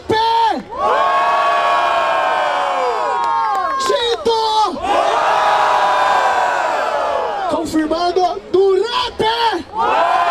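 A crowd at a freestyle rap battle in the Copa Paulista de Freestyle roars, cheers and shouts loudly in sustained waves, with brief dips between surges of voices.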